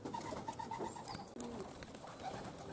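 Pigeons at a loft on a cloudy morning give soft, repeated cooing calls against a quiet outdoor background, moderately near, with no speech.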